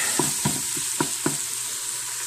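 Ingredients for a low country boil browning in an Instant Pot, a steady close sizzle with a few soft rhythmic scrapes of stirring.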